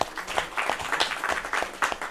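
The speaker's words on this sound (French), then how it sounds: "il y a Tandina Touré, des hommes qui nous soutiennent, applaudissez-les." An audience claps in a meeting hall at a launch event for a women's leadership movement in Mali, the applause choppy and uneven with bursts of louder clapping, sustained for the whole stretch.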